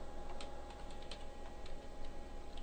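CSS code is tapped out on a computer keyboard, producing faint, light key clicks over a steady background hum.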